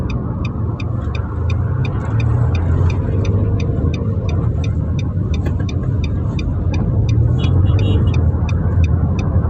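A car pulls out onto a Sumatra highway in first gear, with a loud, steady engine and road rumble throughout and a faint rhythmic ticking, likely the turn signal, running above it.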